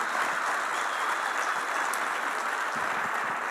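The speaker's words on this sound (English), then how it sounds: "Can I get a clap for that one?" Steady applause from a seminar audience, a dense continuous wash of many hands clapping at even loudness throughout, with no speech over it.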